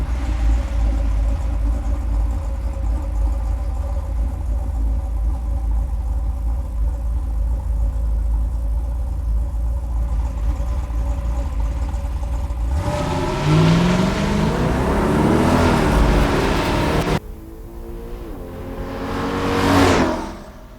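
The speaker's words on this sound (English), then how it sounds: "After Phil and I blasted down the track" A 1968 Chevy Nova SS on a drag strip: a loud, steady engine drone, then sharp revving and rising acceleration roars as the car launches, closing with a fast swelling pass near the end.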